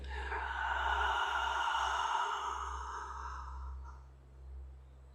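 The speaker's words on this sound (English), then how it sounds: "take a deep breath in" A slow, deep inhale drawn in during a breathwork session, one long steady breath close to the microphone that gradually fades, with a low constant hum underneath.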